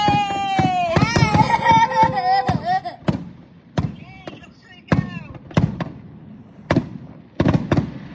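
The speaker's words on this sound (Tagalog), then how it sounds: "May fireworks sila." New Year's Eve fireworks at Caroline Bay, Timaru, crackle and boom in a series of sharp bursts, some close together and others spaced out, while people cheer and shout excitedly at the start.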